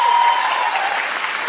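A studio talk-show audience claps in a quick poll, a brief, loud, dense burst of applause that holds steady, with a faint tone beneath.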